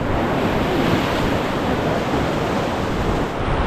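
Whitewater rapids on the Ocoee River at the Flipper ledge, heard as a loud, unbroken roaring rush of water mixed with wind buffeting the microphone, close and steady with no talking.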